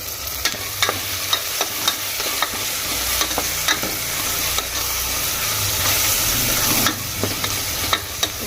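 Chicken with curd (yogurt) being slowly stirred in a hot cooking pan, with repeated scraping strokes over a steady, close frying sizzle and no talking.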